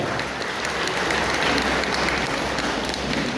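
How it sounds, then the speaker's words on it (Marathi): At a youth Buddhist conference in Maharashtra, a large audience breaks into loud, dense applause, a continuous roar of clapping that holds at full strength without talk. "एकदा जोरदार टाळ्या"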